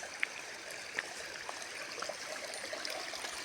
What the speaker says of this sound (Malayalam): കുഞ്ഞു കുഞ്ഞു കൊച്ചരുവികൾ